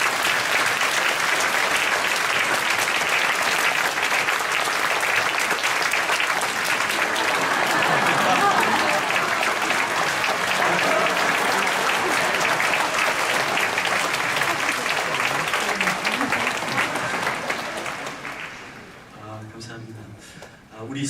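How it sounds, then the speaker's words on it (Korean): A church congregation at a Friday night worship service gives a long, dense round of encouraging applause, loud and steady for most of its length before tapering off, with a voice speaking at the close. "유모차 부대를 향해서 또 격려 박수 한번 드리겠습니다."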